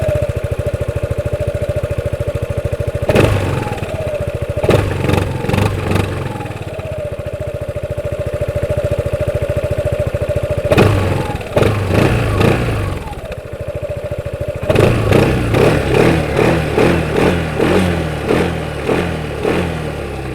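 A 2021 Piaggio Beverly S 400 scooter idles with a steady throb, then its engine is blipped in several sharp, loud revs that rise and fall, with repeated bursts of throttle later.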